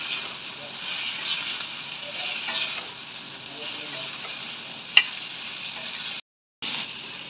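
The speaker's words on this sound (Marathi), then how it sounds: "आणि चांगल्या प्रकारे मिक्स करून घेऊया।" Chopped cabbage stirred in a pan while cooking into cabbage masala, giving a steady, soft sizzle and scraping bed with faint stirring scrapes and one sharp clink near the end.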